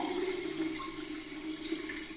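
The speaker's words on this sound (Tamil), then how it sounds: "அரிசி கலந்த தண்ணியை இந்த மாதிரி ஒரு வடிகட்டியில் ஊற்றிக்கிங்க" Rice-soaked water poured through a strainer while making Pongal, a steady close splashing trickle of liquid lasting a couple of seconds with no talk.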